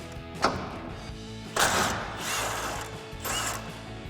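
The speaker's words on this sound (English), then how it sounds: "We'll take a 19mm socket to pop that out." A ratchet wrench fitted with a 19mm socket works a front bumper bolt loose on a 2014-2015 Silverado 1500, giving a few separated bursts of clicking, close up, with no voices.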